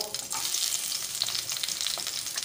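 Onions frying in a pan while cooking adobong batotoy, a steady close sizzle with stirring scrapes throughout.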